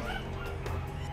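Dogs bark and yip continuously in the horror video game White Day: A Labyrinth Named School, a dense, loud layer of barking with no talk.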